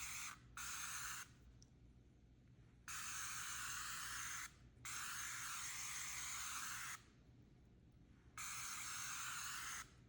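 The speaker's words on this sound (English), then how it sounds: "We're just gonna spray this on here." A fine aerosol mist of sun balm sprayed onto a hair extension weft in three long, steady hissing bursts separated by short pauses, close and fairly quiet, with no talk.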